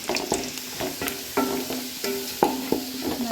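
Ginger and garlic frying in oil with mustard seeds for a lemon and date pickle, a steady close sizzle broken by repeated scraping strokes of a spoon stirring the pan, no voices.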